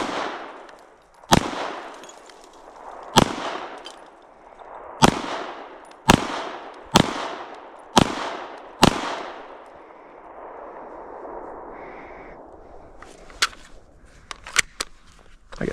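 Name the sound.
handgun shots fired at the range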